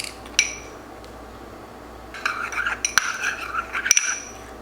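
A spoon works through a small bowl of salt, vinegar and oil, giving sporadic close clinks and light scrapes against the bowl. After a quiet stretch the clinks grow busier.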